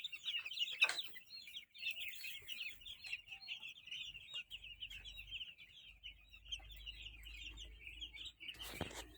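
Small chicks and fowl peep and cluck in a steady, busy chorus that runs throughout, with a couple of louder bursts near the start and the end.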